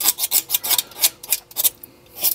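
A razor blade scrapes the gasket face of a Morris Minor carburettor in quick, rhythmic rasping strokes, about a dozen close, bright scrapes with brief pauses between them.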